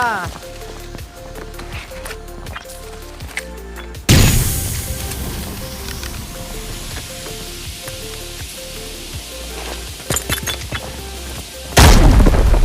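Repeated heavy booms burst over crackling, sizzling game noise in Arena Breakout, with a steady rhythmic background and a final loud blast.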